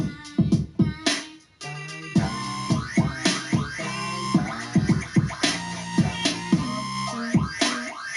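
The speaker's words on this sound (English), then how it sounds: "Dubstep siren." Dubstep siren synth sound, a dense, busy electronic pattern of repeated rising and falling synth stabs and pulsing bass hits, loud and close with a brief dip near the start, no talking.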